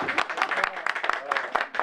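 A small crowd applauds as Vermont Senator Patrick Leahy arrives at the North Bennington Railroad Station outdoors, a short burst of scattered hand clapping, fairly close, mixed with brief indistinct voices.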